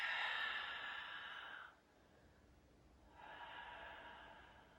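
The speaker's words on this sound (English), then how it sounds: "Breathing." Slow breaths drawn in and let out during a gentle yoga stretch, close and soft, a long exhale fading to near silence before the next breath rises again.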